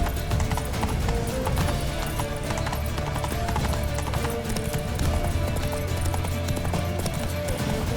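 Hooves clip-clop steadily from a galloping horse in The Witcher 3, driving and continuous under dense game music and effects, with a neigh or whinny possible.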